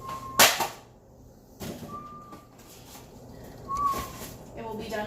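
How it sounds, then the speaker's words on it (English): A person whistles a few short, thin notes at a low level, spread out among kitchen clatter and background noise while sausage and potato soup is being made. "The whistling's really creepy."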